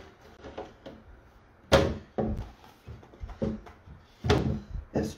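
A wooden nightstand drawer slides open and shut several times, giving sharp thunks and knocks spaced irregularly, close by, with quiet room tone between them.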